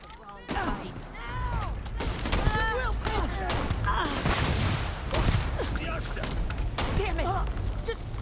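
Gunfire from the video game Starfield erupts in repeated loud shots and bursts with mechanical clatter, mixed with shouted game voices, dense and close throughout.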